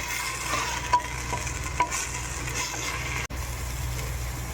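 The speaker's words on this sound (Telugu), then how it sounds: "తోటకూర అన్ని పచ్చివాసన పోయేదాకా ఎంచుకోవాలి బాగా ఎంచుకోవాలి" Amaranth leaves and grated carrot stir-frying in oil in a pan, a continuous sizzle with a few scraping stirs and one sharp knock, no talking.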